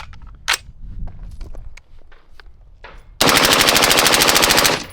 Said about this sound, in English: we're gonna do a mag dump here with some 105s out of the 6 max